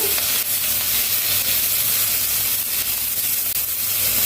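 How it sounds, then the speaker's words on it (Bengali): Whole cumin seeds and chopped onion hit hot oil in a pan just used for frying rohu fish, giving a loud, continuous, close-up sizzle with steady crackling and hiss throughout. "এবার একটু গোটা জিরে ফোড়ন দিয়ে দিলাম, আর দিলাম একটু পেঁয়াজ কুচি।"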